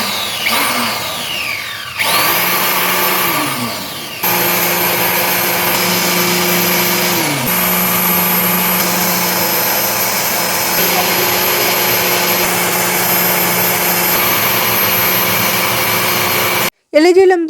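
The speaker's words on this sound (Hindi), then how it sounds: "हमारी जो दालें जितनी थी सारी बेहतरीन ब्लेंड हो चुकी हैं" A blender grinds lentils for a big batch of mutton harees, a loud, steady motor whine that shifts pitch a few times and runs almost without pause, cutting out briefly near the end.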